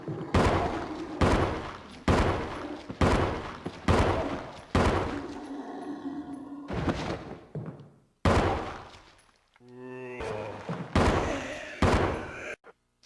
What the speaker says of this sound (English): now let's test the handgun on a zombie